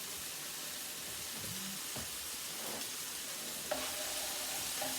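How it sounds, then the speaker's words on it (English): Chicken and onions fry in a pan while being stirred, a steady, faint wash of sizzling hiss with a few soft scrapes and knocks of the utensil; no one talks. "let's give this a little mix now"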